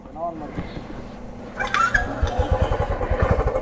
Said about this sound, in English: Now that's how you start a motorcycle.